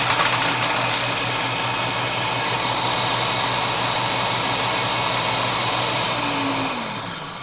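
A Hanabishi Super 6 Blade HJB-100 blender runs with its lid twisted locked, giving a loud, steady motor whir with a rough edge that holds constant before spinning down near the end, with no talking.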